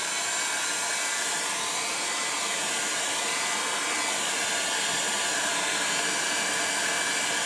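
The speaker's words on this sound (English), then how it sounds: "I've got it on a real low setting" A hairdryer blows steadily at low power, a continuous airy whir with no pauses, close by and fairly quiet.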